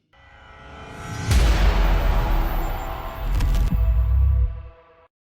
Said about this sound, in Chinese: 黑海上空再次响起震耳欲聋的爆炸声。